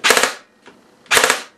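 A Swiss Arms airsoft gun fires two quick bursts, each a tight cluster of three sharp snapping shots about a second apart, close and loud with no talk.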